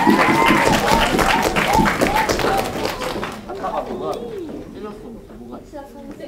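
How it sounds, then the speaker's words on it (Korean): Audience at a middle-school youth unification debate final claps warmly in a dense burst that tapers off after a few seconds, with voices talking over and after it. "박수로 청해 듣겠습니다."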